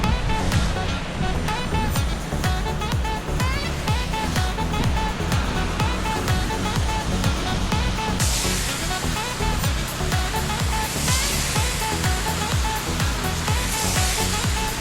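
A pressure washer fitted with a downstream injector sprays soap mix onto a roof in a continuous, loud watery hiss, steady throughout.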